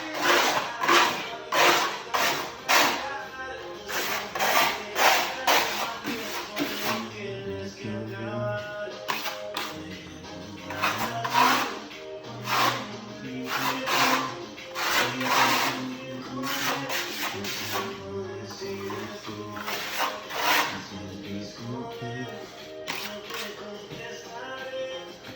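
A trowel burnishing a Venetian plaster cement finish on a pedestal gives repeated scraping strokes in quick bursts with short pauses, fairly close and moderately quiet.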